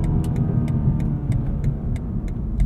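A 2022 BMW Alpina B8 Gran Coupe accelerates hard, its engine a loud, low, continuous rumble punctuated by rapid, crisp gear-shift ticks heard from inside the cabin.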